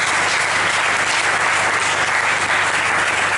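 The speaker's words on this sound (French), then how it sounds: "Acclamons le Seigneur." A church congregation at a Sunday service applauds in a sustained, dense burst of clapping that fills the room from start to finish, without pause.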